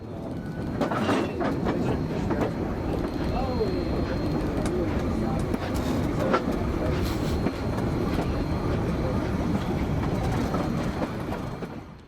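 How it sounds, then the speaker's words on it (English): A K-36 steam locomotive, number 484, pulls away from a water tank at a siding, its rolling rumble and rail clatter steady and moderately close, with birds faintly audible and a narrator speaking over it. "Having its cistern filled, the 484 has departed the Los Pinos Tank and rolled past the siding"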